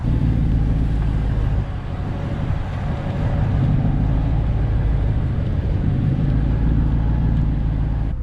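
An off-road vehicle on Mud Grappler tires churns through mud, giving a steady loud engine drone with low rumble and no breaks.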